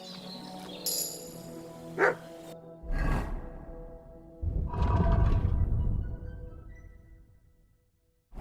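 Mutt, a dog in the video game Kingdom Come: Deliverance II, barks in several separate bursts: short sharp barks early on, then a longer, rougher volley that slowly fades to quiet.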